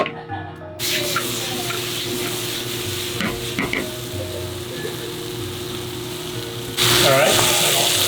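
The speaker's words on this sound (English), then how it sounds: "We're gonna let this sit, let it start sizzling." Vegetables for an Indonesian seafood noodle dish crackle and sizzle steadily in a hot pan, loud and close, with a brief scrape of stirring near the end.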